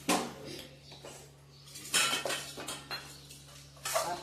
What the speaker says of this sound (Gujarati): આ ધીરે ધીરે આમ સરસ મજાનો લોટ મિક્સ થઈ જાય.